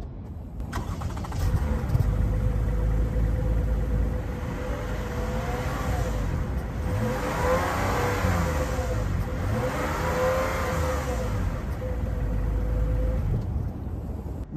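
A Toyota Camry V6 engine revs up twice in long rising sweeps over a steady idle rumble, the exhaust loud and close, with no voices.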